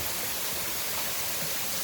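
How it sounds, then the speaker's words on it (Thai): A waterfall pours steadily around a house in deep forest, a dense, even rushing hiss with no breaks, heard alone. "ท่ามกลางป่าลึก ในบ้านที่ แวดล้อมด้วยน้ำตก"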